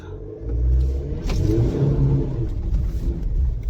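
A GWM P Series LTD ute's engine revs hard as it is floored offroad, a loud, sustained rumbling roar that swells and holds for several seconds.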